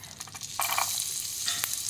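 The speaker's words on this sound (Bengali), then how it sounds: "এর মধ্যে আমি দিয়ে দেব রসুনের কুচি।" Chopped garlic hits melted butter mixed with oil in a pan, and a soft background hiss bursts into a loud, close, continuous sizzle, with a single metallic clink near the end.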